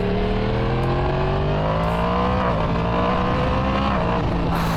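Loud, close 2023 Yamaha MT-10 motorcycle with a Woolich remap, the engine and exhaust droning steadily under load with pitch slowly rising and shifting, wind rush mixed in throughout.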